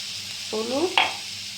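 Rohu fish fries with ground spice paste and turmeric in a pan. A close, steady sizzle runs throughout, with a brief tonal murmur and a sharp click of stirring midway.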